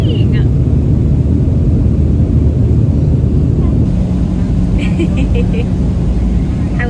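Steady, loud engine drone and rushing air inside an airplane cabin in flight, a constant broadband roar with faint voices now and then over it.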